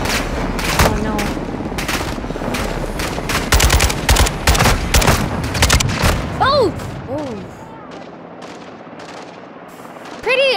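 Rapid bursts of light machine gun fire from Call of Duty: Modern Warfare 2 (2022) hammer loudly and repeatedly under excited talk, then thin out into scattered shots and whizzing sweeps as the barrage fades.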